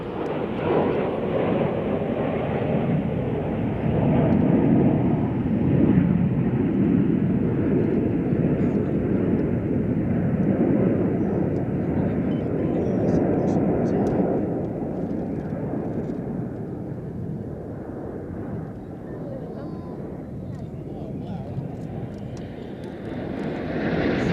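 Red Arrows jets flying an airshow display at Sywell, a steady loud roar of jet engines sweeping past at high speed, broad and continuous with a slow swell and fade, while a commentator talks over the noise.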